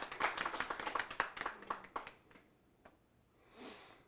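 A congregation at a religious service claps in quick, uneven bursts for a couple of seconds, fairly faint, then fades to near silence with a soft breath at the end.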